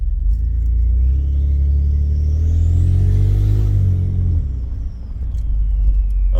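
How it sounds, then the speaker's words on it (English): A Ford F150 EcoBoost with a custom 4-inch stainless steel exhaust drives past with a deep droning rumble that swells and fades, a rising turbo whistle riding above the engine note. "I love that turbo whistle though."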